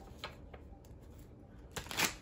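Tarot cards being shuffled by hand, heard as soft, quick riffling bursts that come and go, with a louder flurry near the end. The sound is quiet and close, with no talking.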